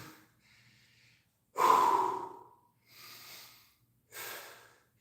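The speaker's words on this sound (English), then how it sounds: "I'm slowing my breathing, catching my wind" Heavy breaths during a rest between workout exercises: three or four close exhales and inhales, the first one loud and snorting, with short silent gaps between them.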